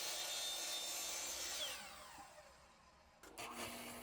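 A miter saw whines steadily through a wooden leg held in an angle jig, the pitch sliding down as the blade slows after the cut, loud and close, ending with a brief clunk.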